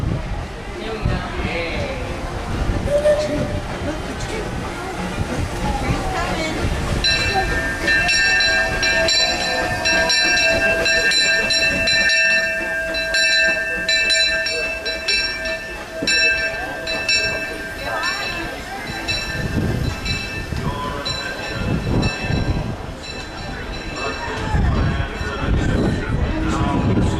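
The Disneyland Railroad train rumbles along steadily with rattling cars, and sustained whistle-like tones ring out through the middle, a loud continuous run with no talking.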